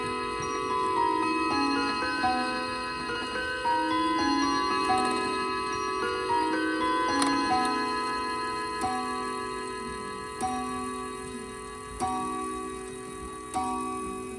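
Copper-pipe chimes on a shop clock play the St. Michael tune, sustained ringing tones over steady ticking, with a few sharper strikes standing out toward the end.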